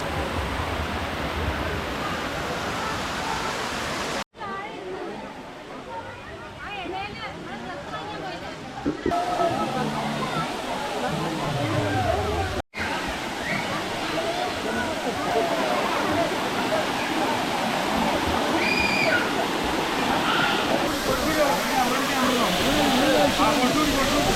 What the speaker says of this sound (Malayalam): വെള്ളച്ചാട്ടത്തിൻ്റെ മേളിൽ നിന്നുള്ള ആ ഒരു വാട്ടർഫാൾ